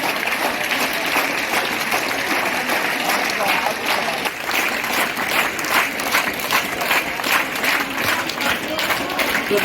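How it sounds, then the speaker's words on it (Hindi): An audience claps continuously at a school Teachers Day celebration, loud and sustained for nearly ten seconds, with talk mixed in. "जोरदार तालियां।"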